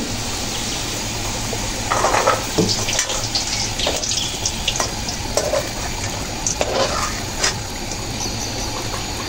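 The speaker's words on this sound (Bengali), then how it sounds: "তো মাছগুলো ভেজে নিচ্ছি।" Fish fry in a pan with a steady, fairly loud sizzle, broken by occasional splattering bursts and clinks of a utensil.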